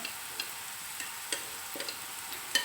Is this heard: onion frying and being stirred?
yes